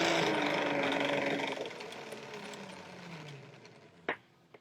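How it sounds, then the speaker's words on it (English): A retractable garden hose reel winds the hose back in with a whirring, rattling rush that gradually slows and fades, ending in a sharp clack as the hose stops. "So now we want to retract the hose. It's just a matter of pulling, letting go."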